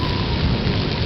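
Continuous rain on a mountain trek near Kalpa and Roghi villages in Himachal, heard as a loud, dense, steady hiss with no pauses and no voices.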